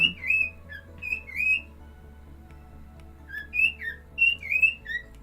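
Small birds sing with high, bright whistled phrases that come in short bursts separated by pauses, over a faint steady hum in an indoor room, with no talking.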